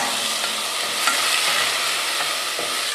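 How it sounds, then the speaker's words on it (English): Quinoa toasting dry in a pan while being stirred, giving a steady close crackle and faint sizzle with occasional scrapes, no voices. "we're going to stir it until it's dry. It starts browning, and you can hear a, you know, crackling sound"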